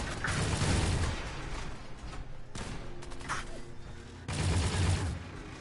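Gunfire during a fight in the video game Fallout 4, distant bursts of rapid shots and booms in clusters, with a few sharper reports in between and faint mechanical noise.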